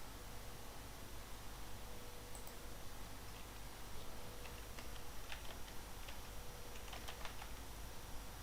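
Keys clatter on a computer keyboard in a quiet room, soft irregular typing taps that come in a few bursts over a faint steady hiss.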